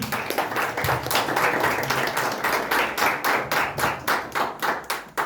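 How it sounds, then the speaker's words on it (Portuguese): Church congregation clapping to welcome a preacher during an evening service, rhythmic unison claps in a steady beat, loud and close, repeating evenly for several seconds. "Vamos receber nosso irmão Vinícius com um aplauso nessa noite."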